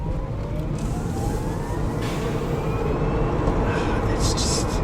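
Electric Dodge car accelerating on a circuit: a rising electric motor whine over steady, loud road and wind roar, heard from inside the cabin.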